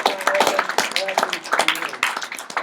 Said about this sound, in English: How about a round of applause for our guest Gabe?